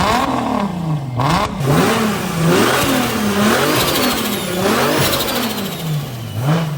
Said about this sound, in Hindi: मैं जरा टर्बो का स्पूल दिखाना है।